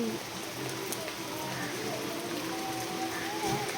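Rain falls steadily outdoors, a continuous, even patter and wash of drops on surfaces that stays close and unbroken throughout.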